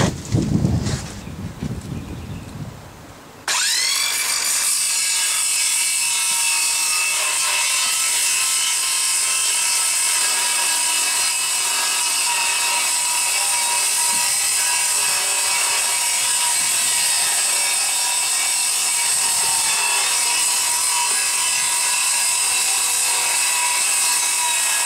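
A power saw cuts steadily through a freshly built boat locker, trimming four inches off the top where thickened resin was laid; after a brief handling noise, a loud, continuous high whine runs unbroken for over twenty seconds, close up and without talk.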